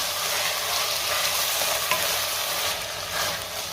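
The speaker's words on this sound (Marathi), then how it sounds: "आता आपल्याला मॅरिनेट केलेले सोया चंक्स घालायचे आणि 2 मिनिटं हे सगळं व्यवस्थित मी पुन्हा परतून घेणार आहे" Marinated soya chunks are sautéed in a pressure cooker, giving a dense, even sizzling hiss with faint stirring scrapes, close and steady throughout.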